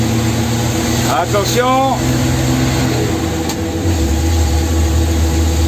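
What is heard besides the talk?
engine of vehicle shifting up into fourth gear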